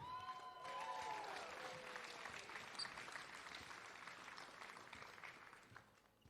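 Audience applause fills an award presentation for a national basketball championship, a steady wash of clapping that runs throughout at moderate distance, with a brief faint tonal sweep near the start.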